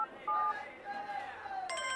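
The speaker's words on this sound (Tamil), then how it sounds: "மச்சான் ஃபோன் அடிக்குதுங்க." A telephone rings in a busy Tamil-language film scene, with bright electronic warbling tones coming in near the end over background chatter and talking.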